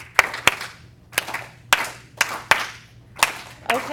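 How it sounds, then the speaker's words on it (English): An audience claps in a slow, spaced rhythm, about seven sharp crisp hand-clap bursts over four seconds, loud and close with no talking. "Okay, now keep clapping."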